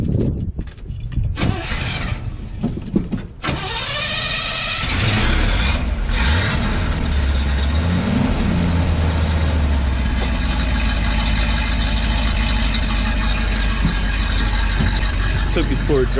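An old truck engine with a manual choke cranks through a few rough attempts, then catches and settles into a steady, loud idle that runs to the end. Speech is heard over the engine.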